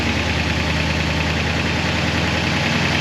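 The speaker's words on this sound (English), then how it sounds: "So we'll turn it up to about 1200 RPM." A 1966 Oldsmobile 442 engine with an Edelbrock carburetor runs at about 1200 RPM during tuning, giving a steady, loud, close rumble throughout.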